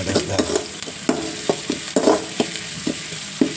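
Onion and curry leaves fry in coconut oil, a low sizzle broken by repeated sharp scrapes and taps of a spoon stirring the pan, close and without speech.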